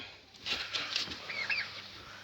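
Turkeys and their chicks being fed cracked corn, a fairly quiet stretch of soft, scattered chirps and peeps with some flapping and shuffling, no talking.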